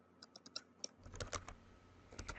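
Quick, light clicks of fingers typing on a computer keyboard, an irregular patter of keystrokes close by, with no talking.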